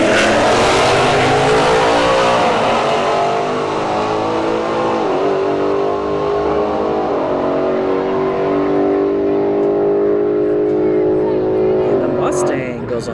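At a drag strip, a Ford S550 Mustang and a Mercedes-AMG C63S launch together, engines roaring loudly and rising through gear changes before fading into the distance, with a crowd and announcer's voice in the background.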